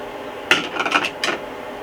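A utensil stirring shredded mozzarella into a pot of smoked brisket jalapeno mac and cheese gives a few quick clinks and scrapes against the pot, close and clear, in short bursts over about a second.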